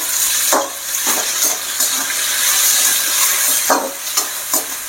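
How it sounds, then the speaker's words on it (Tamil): Ivy gourd sautés in a pan with a steady close sizzle, broken by a few sharp scraping stirs of a spatula. "கோவக்காயை நல்லா வதக்கணும்."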